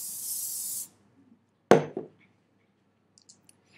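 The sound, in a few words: hairspray being sprayed on hair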